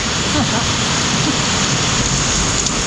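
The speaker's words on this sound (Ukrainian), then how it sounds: "Оце я розумію дощик." A heavy rain downpour pours steadily at a roadside gas station in Argentina, a loud, dense, unbroken hiss of water with no pauses.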